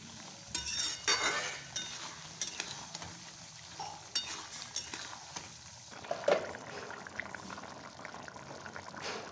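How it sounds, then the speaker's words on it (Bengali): Meat sautéed in a pan, a soft close sizzle under intermittent scraping and stirring with occasional light clinks of a utensil, fairly quiet and with no speech. "আর এখানে মাংসটা কষাচ্ছি"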